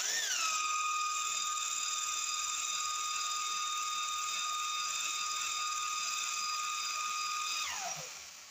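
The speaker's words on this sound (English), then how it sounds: "Because I'm running the drill." An electric drill spins a Hyundai H100 alternator on a vice bench: a steady high-pitched mechanical whine with a spinning tone, holding constant for several seconds before winding down at the end.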